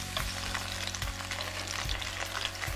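King oyster mushroom skewers pan-fry with a dense, continuous close sizzle, while a few low periodic thumps recur underneath roughly every second and no one speaks.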